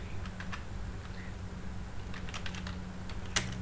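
Steady typing on a computer keyboard while composing Urdu text in InPage 2009, with rapid close key clicks running throughout over a low background hum.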